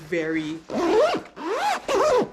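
Zipper on an Osprey Fairview 40L travel backpack, zipped open and shut in three or four loud, close, rasping pulls with brief pauses between them.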